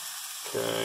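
Onions frying for burgers on a hot cooking surface, a short steady hiss and sizzle that starts abruptly halfway through and continues, fairly quiet and close.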